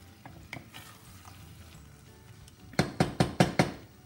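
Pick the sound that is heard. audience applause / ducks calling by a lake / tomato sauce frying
tomato sauce frying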